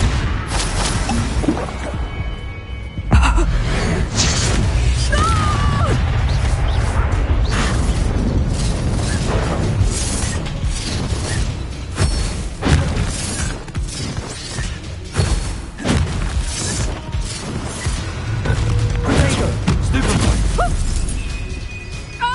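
Spells such as Bombarda and Confringo burst and crash in Hogwarts Legacy combat, a loud, busy run of booms, shattering impacts and magical bursts layered over one another with hardly a break, alongside brief shouted spell names.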